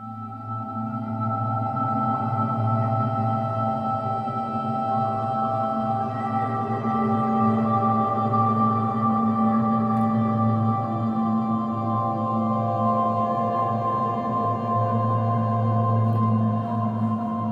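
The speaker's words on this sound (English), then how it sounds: "in this case I just have one infinite pad, which is called All That's Left Behind, and it sounds like this" A sustained ambient synth pad, the preset All That's Left Behind from the Infinite Bird Whistle instrument, holds a steady, layered tonal drone with a soft, organic texture that swells gently throughout without pause.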